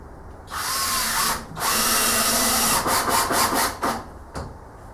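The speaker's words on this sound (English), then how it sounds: "Put another couple more screws in it." A power drill drives screws into a storage shelf built inside a shipping container, its loud whirring bursts starting and stopping in a run of short pulses, with wooden creaks and rubbing.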